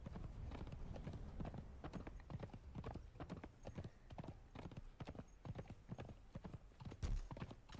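Horse hooves clip-clop steadily through nearly eight seconds of multiplayer play in the video game Conan Exiles, the rapid, even beats staying close and prominent, with a short whinny-like burst near the end.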